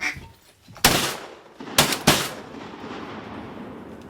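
Three loud shotgun blasts during a duck hunt, one then a quick pair about a second later, each sharp crack trailing into an outdoor echo.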